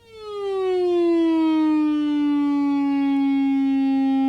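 A single sustained synth tone from a Jen Carousel C-450 organ's built-in CX-2000 monophonic synthesiser glide effect slides smoothly downward in pitch and then holds, buzzy and rich, like a slow siren-like glide.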